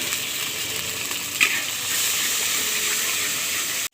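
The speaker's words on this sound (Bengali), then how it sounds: "লবণ দিয়ে আর হলুদ দিয়ে চিংড়ি মাছটা ভেজে নেব।" Prawns seasoned with salt and turmeric fry in hot oil with a loud, steady sizzle that holds evenly for about four seconds before cutting off abruptly.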